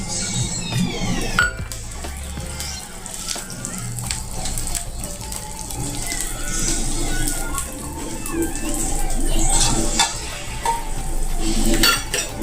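Whole spices such as cloves and bay leaf fry in a pan for a broken wheat khichdi, with repeated metal clinks and scrapes of stirring over a crackling sizzle, and a voice speaks now and then.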